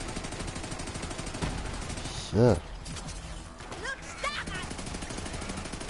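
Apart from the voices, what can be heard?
gunfire from video game gun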